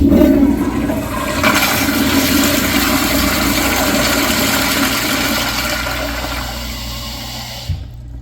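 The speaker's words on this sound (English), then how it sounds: "Now let's have a look at a flush." A Kohler Wellcomme 1.6 gallon toilet flushes straight down in a loud, close rush of water that slowly fades over several seconds, then ends with a brief clunk and a drop to quiet.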